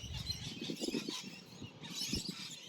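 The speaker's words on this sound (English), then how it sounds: "the birds are loud right now" Birds chirping in a busy, continuous chorus at a moderate distance, steady throughout without any talking.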